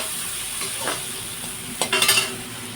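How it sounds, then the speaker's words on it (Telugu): Dried shrimp fry in a pan with a steady sizzle, joined by a few clinks and scrapes of stirring near the end; close and moderately loud, no talk. "ఫస్ట్ బాగా వేయించుకోవాలండి"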